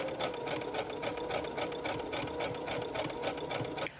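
A sewing machine stitches along the original seam of an armour storage bag, a steady rapid mechanical rattle running continuously for about four seconds before easing slightly at the end, with no talking.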